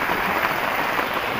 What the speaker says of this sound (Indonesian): Udah semakin sore, hujan turun lagi.